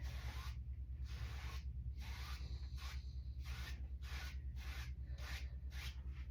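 A clean 2-inch paintbrush sweeps across canvas while painting a moonlit seascape, giving soft, close, rhythmic rasping strokes, about eight in a row, over a steady low hum.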